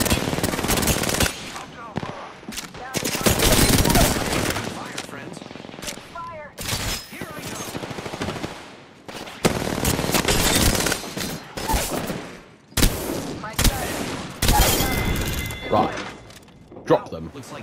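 Rapid automatic gunfire from the video game Apex Legends, loud bursts of shots in several clusters with short gaps between them, plus mechanical clicks and reloading sounds.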